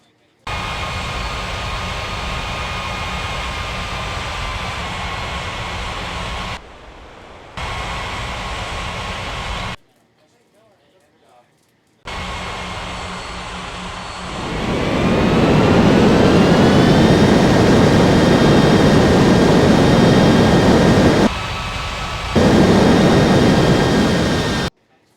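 Jet airliner on approach and landing on runway 18 at an airport, a loud continuous engine roar that swells into a broad rushing rumble as it touches down, with brief gaps in the sound.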